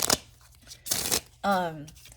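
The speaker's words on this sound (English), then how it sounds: "let's give it a good shuffle because these are in alphabetical order at this time." An oracle card deck is shuffled in two quick, close riffling bursts, followed by a short vocal sound.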